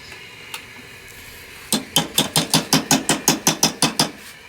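Ghee goes into a pan of onion gravy, followed by a fast, even series of about a dozen sharp metallic scraping or stirring strokes over a low sizzle.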